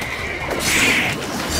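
A horse neighs loudly in The Witcher 3 video game, one clear whinny rising over faint hoof clatter and ambient game sound, with no talking.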